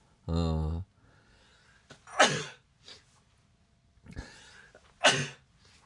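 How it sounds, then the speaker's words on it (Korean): Three sharp coughs, near and fairly loud, spaced apart, after a brief voiced sound at the start. "제가 기침이 나와갖고 죄송합니다"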